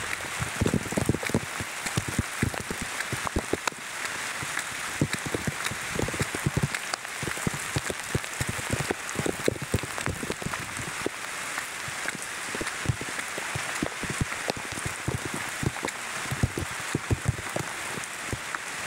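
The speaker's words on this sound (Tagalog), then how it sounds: "Malakas ang ulan" Heavy rain pounds steadily on a hard surface, a dense constant patter with scattered louder drops, close and unbroken throughout.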